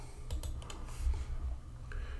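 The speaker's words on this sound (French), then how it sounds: "je vais le supprimer en appuyant sur le bouton supprimer de mon clavier" Computer keyboard keys tap a few times in quick succession, quiet and close, with a low hum beneath and no voices.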